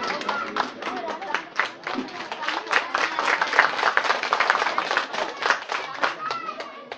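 Audience clapping at a Balinese religious talk held at a family temple in Pedawa village, a dense patter of many hands lasting throughout with voices mixed in under it.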